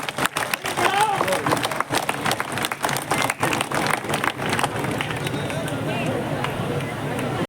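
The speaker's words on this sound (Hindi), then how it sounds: "जोरदार तालियां एक बार बजाइएगा सभी।" Crowd applauding at the unveiling of a Bhagat Singh statue at an outdoor public event, loud sustained clapping from many people with shouting and voices over it, easing slightly toward the end.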